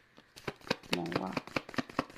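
Tarot cards are shuffled and drawn by hand in a quick series of crisp slaps and riffles, close and fairly quiet.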